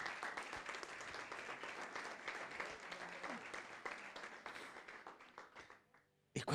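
Audience applause, a dense, sustained clapping crowd with some voices mixed in, holding steady before thinning and fading out near the end, then a brief sound at the very close.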